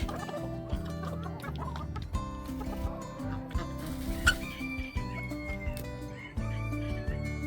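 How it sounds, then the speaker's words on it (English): Chickens cluck and a rooster crows in a morning farmyard with Highland cows nearby, dense overlapping calls fairly close and loud, with a sharp bright squawk midway. "Good morning, big chickens."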